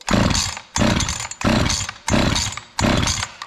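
A Jonsered CS2152 chainsaw, just repaired with a new gas line, fires up and revs in five loud, close bursts with short pauses between them.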